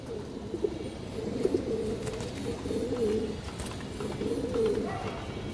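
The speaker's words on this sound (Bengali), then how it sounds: "খুবই চঞ্চল কবুতর দর্শক" Black lace pigeons coo softly and repeatedly, their low burbling calls overlapping against a faint background hum.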